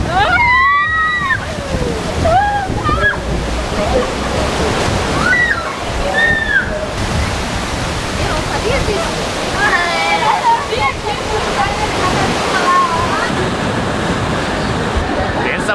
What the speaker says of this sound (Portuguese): Essa força dessas bombas aí pra levantar tanta água